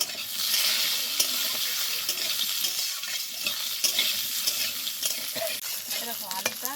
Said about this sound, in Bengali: এবার আলুটাকে লাল লাল করে ভেজে নিতে হবে।